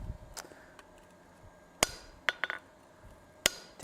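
Sharp, ringing hammer strikes shaping a forged metal maple leaf bowl, a few spaced blows and a quick double tap, close and distinct over quiet background.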